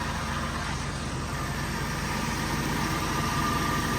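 Close, steady idle from a Mazda Miata engine after a wall impact, an even low rumble with slight vibration and no other sounds.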